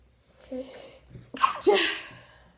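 A single sharp sneeze follows a short breathy intake and fades out. It sounds close and moderately loud, with a little quiet talk just before it.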